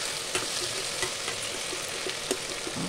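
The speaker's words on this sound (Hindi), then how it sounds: "नमक स्वाद अनुसार इसको मिक्स कर देते हैं" Potatoes and okra stir-frying with salt in a pan give a continuous close sizzle, broken by a few soft scraping stirs at uneven intervals, and no one speaks.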